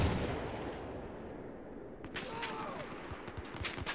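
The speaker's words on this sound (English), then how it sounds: "Battlefield is up next for both in-your-face combat then onto some long-range shooting." Gunfire in the shooter game Battlefield starts with a rumbling roar, then a handful of sharp shots and bursts crack out over the following two seconds, fairly quiet overall.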